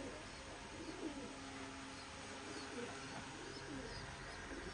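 Pair of tournament pigeons cooing softly, a few low gurgling coos scattered through a steady background hiss, faint and close.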